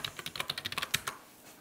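A computer keyboard clatters through a quick burst of about a dozen close key presses in an even rhythm, then falls quiet.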